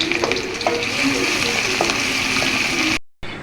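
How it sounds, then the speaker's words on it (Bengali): Chopped onions dropped into hot oil in a wok sizzle loudly and close, with stirring scrapes mixed in before a sudden cut to near silence. "তেল গরম হয়ে এলে আমি আধা কাপ পরিমাণ পেঁয়াজ কুচি দিয়ে দিলাম।"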